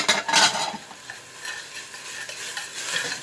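Tomato paste is stirred into fried peppers and onions in a pan, a spoon scraping and clinking against the metal over a soft sizzle, loudest at first and then settling into gentler rhythmic stirring.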